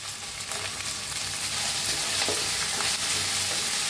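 Roasted peas being stirred with potato and brinjal in a pan, a dense continuous sizzle with rhythmic scraping strokes, close and loud throughout.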